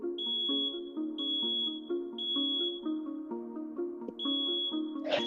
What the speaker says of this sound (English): even the fire alarms sound similar around here